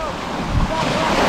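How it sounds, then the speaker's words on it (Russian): Strong, steady wind at the seaside on the Black Sea coast at Lazarevskoye, a broad roar of wind buffeting the microphone blended with surf washing in, continuous and loud throughout. "Сейчас сильный, достаточно сильный ветерок. Очень сильный."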